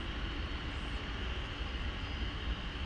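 An airliner taking off at DFW Airport, a steady broad roar of jet engines that holds evenly throughout, heard from a distance.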